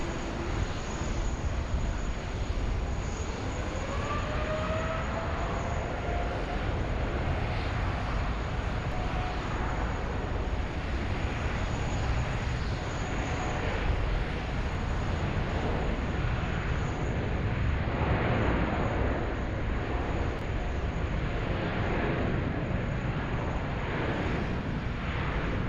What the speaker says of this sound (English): United A42 cleared for takeoff on runway 16 right.